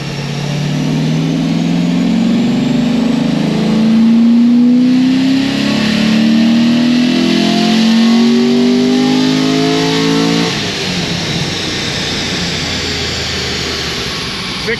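A naturally aspirated Corvette C6 Z06 making a full pull on a chassis dyno with its exhaust closed roars loudly and climbs steadily in pitch for about ten seconds, then drops off sharply as the engine settles back to a rumble.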